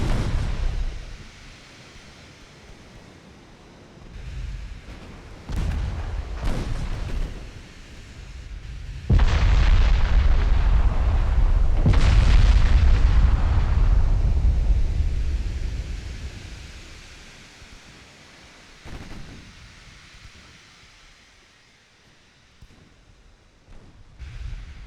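Warship gunfire in the Ultimate Admiral Dreadnoughts naval battle game: a string of booming blasts and sustained rumbling roars, loud and broadband, with a heavy barrage in the middle before the sound fades into a quieter rumble.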